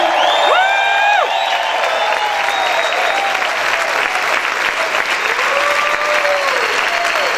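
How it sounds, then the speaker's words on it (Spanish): A church congregation claps and cheers loudly, a dense continuous roar of applause with high whoops and shouts rising over it, strongest at the start and holding steady throughout. "Grita y aplaude fuerte al Rey."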